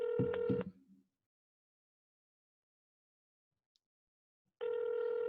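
A telephone ring tone sounds briefly, falls silent for a few seconds, then starts ringing again; steady electronic tone, otherwise quiet.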